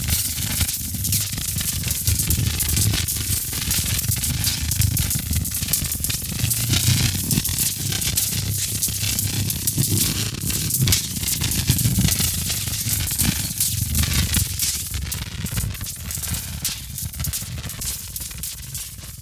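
A synthesized electricity buzz made in Phase Plant, imitating cable-punk equipment powering up or down, crackles and sizzles as a dense, steady noisy hiss with a low hum underneath, sustained for about twenty seconds.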